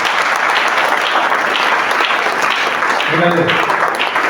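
A church congregation applauds loudly during a sermon, a dense, sustained wash of clapping from start to finish, with a voice briefly calling out over it near the end.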